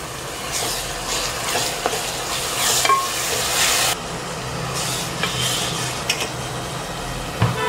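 Chopped tomatoes sauté in oil for mushroom biryani, frying with a steady close sizzle while a spatula stirs and scrapes the pan in uneven strokes.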